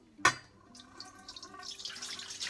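Purified water is poured for oatmeal sourdough bread: a soft splash starts it, then a quiet, steady trickle and dripping that builds gradually toward the end.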